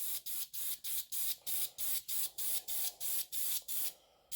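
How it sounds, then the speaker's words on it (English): An airbrush sprays paint onto a model of the Russian Project 955 submarine Dolgoruky in about ten quick, even hissing bursts, close and regular, with short gaps between them. "It's not getting the paint in there."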